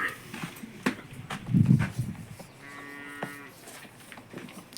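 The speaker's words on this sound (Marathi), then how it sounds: "शेवटची गाय गंगा गंगाला पाण्यावर चालवले" A cow lets out a long, low moo amid farmyard noise, with scattered knocks and a dog faintly in the background.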